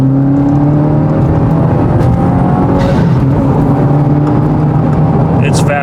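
Subaru WRX (2022+ VB) fitted with a Perrin low profile intake accelerating on a freeway: steady loud engine drone with rising harmonic tones and road noise throughout, a short hiss near the end, no talk.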